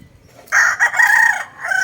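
A fighting rooster offered for sale by a neighbor crows once, close and loud, in a drawn-out strained call with a brief break midway, with no talk over it.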